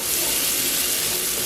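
Curry corn frying in a hot pan, a steady, even hiss of sizzling oil that holds close and constant with no talk over it.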